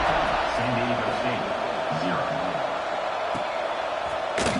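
Stadium crowd at a Stanford versus SDSU college football game, a steady loud roar and buzz from the stands running through the whole stretch, with a commentator's voice over it and a sharp thump near the end.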